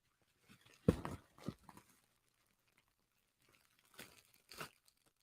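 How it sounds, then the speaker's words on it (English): A package is torn open by hand: a couple of short, sharp rips and crinkles of wrapping, quiet and close, separated by silence. "I'm going to rip this thing open."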